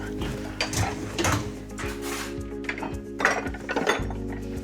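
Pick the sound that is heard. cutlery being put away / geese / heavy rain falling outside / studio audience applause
cutlery being put away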